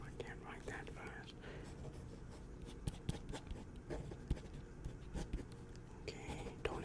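A pen scratches across paper writing a list, faint and close with small taps and strokes, under soft whispered speech in an ASMR role-play setting.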